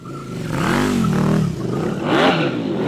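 A 180-horsepower short-wheelbase motorcycle revs hard while drifting on overheated tires, its engine note rising and falling in two loud surges over a steady close roar.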